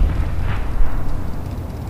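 An artillery shell explodes in the Company of Heroes video game, giving one loud, low rumbling boom that fades into a dull roar.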